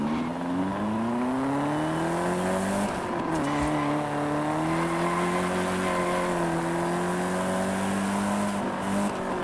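Car engine in the Forza Horizon 5 racing game, a steady droning motor whose pitch climbs through gear shifts, dips briefly, then holds a sustained higher tone, loud and continuous with no talk.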